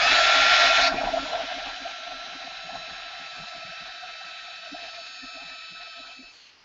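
A hair dryer blows steadily over a painted art journal page, loud and close at first, then dropping to a lower continuous whine that fades out near the end, with no talk.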